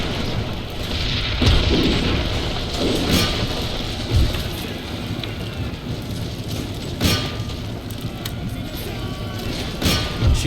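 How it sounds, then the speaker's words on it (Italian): Heavy booms of game cannon fire go off at intervals over a busy, noisy battle backdrop, with voices talking throughout. "Questi cannoni maledetti."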